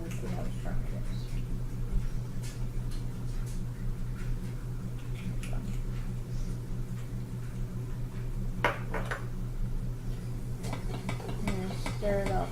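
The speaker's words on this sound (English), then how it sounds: "I'm going to stir it all together" Lavender bath salts scented with lavender essential oil are stirred in a bowl, giving soft gritty scraping and light clinks that come and go over a low steady background hum, fairly quiet and close.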